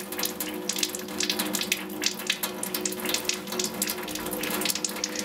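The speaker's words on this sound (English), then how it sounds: "Rinsed hands and arms." Tap water runs steadily from a faucet as hands and arms are rinsed during a surgical hand scrub, a continuous close splashing hiss with small fluctuations throughout.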